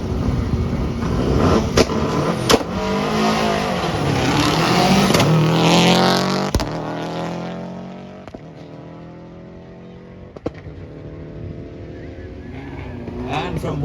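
A 1997 European Rally Championship Subaru Impreza rally car runs down a hill at a classic car show, its engine rising to a loud revving pass with gear changes, then fading as it moves off, with crackles and a voice talking over it.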